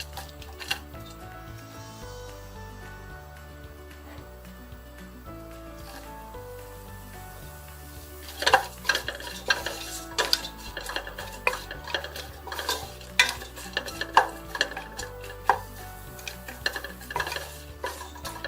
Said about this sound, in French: Le fait de griller aussi le poisson séché, ça permet d'écraser les petits arrêts.